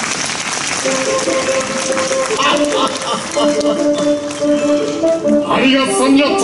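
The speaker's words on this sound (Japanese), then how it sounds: "ゆえにこの者たちの働きに大きな拍手をば。" An audience claps throughout at a Centrair Shutsujin winter festival performance by a Tokugawa Ieyasu and Hattori Hanzo ninja troupe at Chubu Centrair International Airport in Aichi, the applause continuing under a speaking voice and tonal background sounds.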